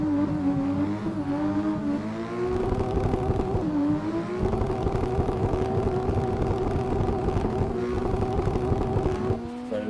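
Race car engine in a racing game held hard against the rev limiter, a loud continuous buzzing drone with steady harmonics and slight pitch wobbles, alone and close throughout.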